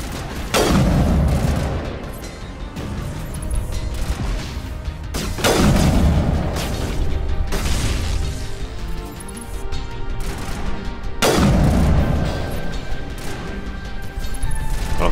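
Heavy gunfire booms from a sniper in the sci-fi shooter game Mass Effect, three loud blasts roughly every five seconds, each followed by a rumbling decay and crackling battle noise, without talk.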